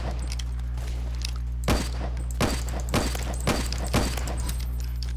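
Gunfire in the video game Phantom Forces while sniping: four sharp, separate shots at uneven intervals over a steady low hum, with no talking.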